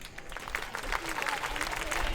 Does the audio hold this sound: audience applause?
yes